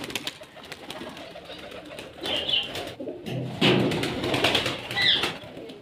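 Pigeons coo softly nearby amid rustling and bursts of wing flapping, with scattered chirps in an uneven, busy rhythm.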